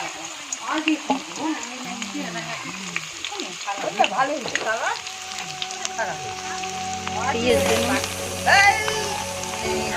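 Garlic sizzles steadily in a pan while chicken fried rice is being made, a continuous close frying hiss with stirring, and voices talk over it throughout.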